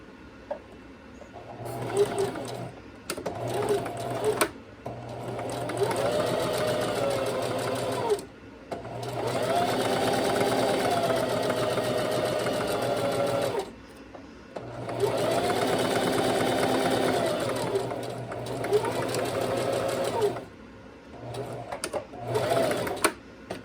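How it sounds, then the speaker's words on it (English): Sewing machine edge stitching a shirt placket in several runs of steady rapid stitching, close and fairly loud, separated by pauses where a voice talks quietly. "So now I can just go ahead and sew my other side, and I'm going to use that same ridge and keep my needle to the left"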